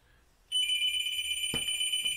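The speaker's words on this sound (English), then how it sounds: "Not going to answer the phone." A telephone rings with a steady electronic tone that starts abruptly and holds, with a brief knock partway through, fairly loud and nearby.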